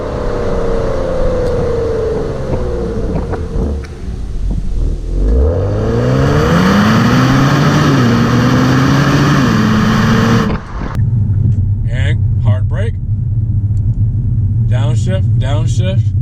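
A 2019 Genesis G70 engine revs and rises in pitch as the car accelerates, with downshifts breaking the climb before a steady, lower drone settles in; people talk over parts of the run.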